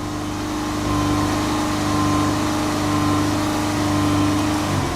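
A car engine is held at raised revs of around 2500 to 3500 RPM during a battery test, a steady, close drone that climbs slightly early on and then holds even.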